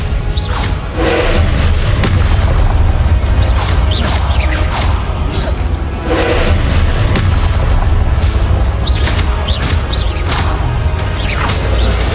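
Continuous booming blasts from the Confringo spell in Hogwarts Legacy, a dense and loud rumble with repeated sharp bursts layered over a heavy low roar and no gaps between them.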